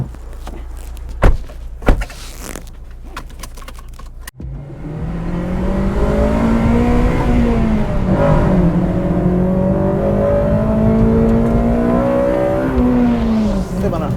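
A Honda Civic Mugen RR, a limited-edition Type R, pulls away under hard acceleration. A couple of door thunks come first, then the engine note swells and climbs steadily in pitch, loud and close from inside the car.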